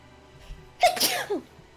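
A single close, sharp human sneeze bursts out suddenly after a brief quiet intake, loud and alone with no talking around it.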